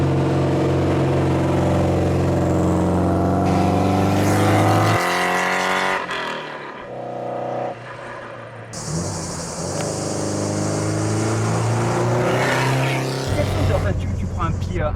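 A Peugeot 205 Turbo 16 Group B rally car drives with a loud, steady engine drone that surges and drops as the revs change, staying close throughout.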